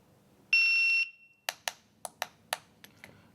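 A CED7000 PRO IPSC shot timer gives a long, shrill electronic start beep, then records a quick string of about six sharp gunshots spaced unevenly, heard near and clear in an otherwise quiet setting.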